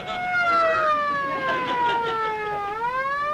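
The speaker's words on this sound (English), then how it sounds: "Why'd you start the siren?" A police siren wails close by, its pitch sliding down and then rising again in a loud, continuous sweep.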